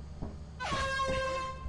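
A loud, sustained air horn blast in the video game Lethal Company, about a second long, starting abruptly after a short thump and holding a steady bright tone.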